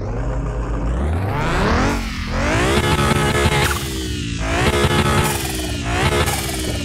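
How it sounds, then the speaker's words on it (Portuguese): A Nissan Skyline GTR R34 engine roars loudly in a video game, revving up in repeated rising sweeps with short drops between gear shifts, close and aggressive, with no speech over it. "Esse é o ronco do GTR daqui do carro mecânico"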